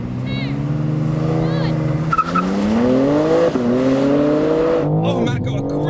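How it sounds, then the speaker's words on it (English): Audi RS5 and BMW M3 launching side by side in a drag race, engines revving hard and climbing through gears with a brief tyre chirp, loud and close, with a voice talking over it. "Let's do this drag race."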